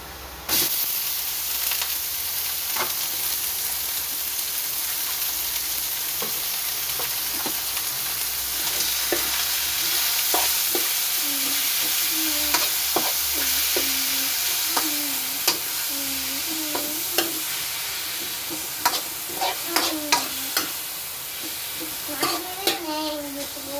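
Ground pork (giniling) hitting a pan of browned garlic and onion, sizzling steadily and close up, with a spatula stirring and scraping in repeated strokes that grow more frequent toward the end.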